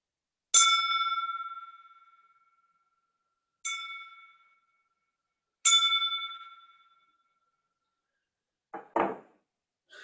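A crystal drinking glass struck like a bell rings out three times, each a bright, clear ping with a long fading ring-out, followed by a couple of duller knocks near the end.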